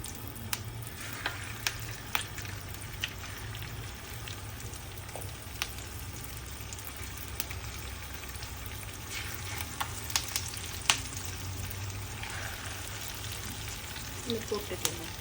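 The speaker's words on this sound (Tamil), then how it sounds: "இப்போ நம்ம எண்ணெய்க்குள்ளே போட போகிறோம்." Masala-marinated fish fries in hot oil for a Kerala fish fry, giving a continuous close sizzle with scattered crackles and pops that grow busier toward the end.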